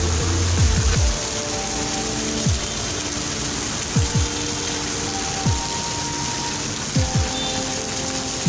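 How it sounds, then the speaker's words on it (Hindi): Heavy rain falls in a steady hiss while a close, recurring mechanical whine sweeps down in pitch at irregular intervals over it. "तो दोस्तों ये आप देख सकते हैं कितनी तेज़ बारिश हो रही है यहाँ पे"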